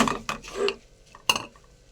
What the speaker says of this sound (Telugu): ఇలా బెల్లంలో వేసుకొని కలుపుకోవాలి